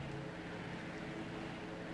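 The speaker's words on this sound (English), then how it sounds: "Plane flying ahead." A steady, low droning engine hum like a distant propeller plane overhead in the game Rust, continuous and even throughout with no voices.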